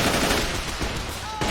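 Machine gun fire in the WWII strategy game Men of War: Assault Squad, a dense rapid burst of automatic gunfire lasting under two seconds, loud and close.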